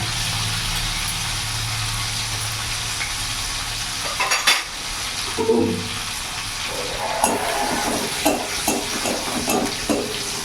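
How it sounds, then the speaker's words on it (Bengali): Nigella seeds and dried red chillies tempered in hot oil, sizzling and crackling steadily in the pan, with a few stirring scrapes of a spoon in the middle and toward the end. "এই তেলের মধ্যে আমি ফোড়ন দেবো কালো জিরে আর শুকনো লঙ্কা।"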